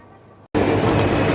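Train noise at the Vientiane railway station, a loud steady rumble that cuts in abruptly after a brief quiet gap and then carries on close and unbroken.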